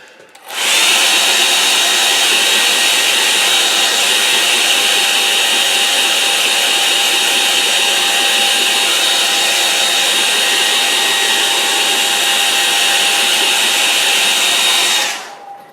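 A hair dryer drying a watercolour lake painting blows a loud, steady whirring roar up close. It starts abruptly and holds an even pitch for about fourteen seconds before switching off.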